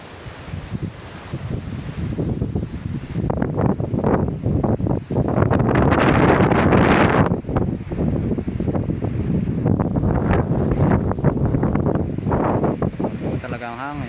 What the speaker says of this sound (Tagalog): Talagang hangin